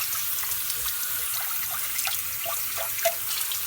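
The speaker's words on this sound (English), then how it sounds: "So I'm going to dump it in my little strainer here so that I can rinse it." Tap water runs steadily over basmati brown rice in a kitchen strainer, a continuous hissing trickle with small splashes and drips, close and even in loudness.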